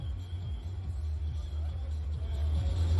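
Thirty cars lined up side by side in Karabük idle together, a low, continuous engine rumble with a slow pulsing throb that swells slightly toward the end, with faint voices in the background.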